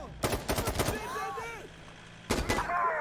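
Gunfire in Insurgency Sandstorm, a burst of several rapid close shots followed by a pause and another volley, with a voice talking between them.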